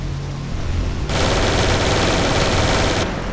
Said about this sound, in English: Oh god, they're shooting.